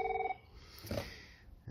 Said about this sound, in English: it is now ringing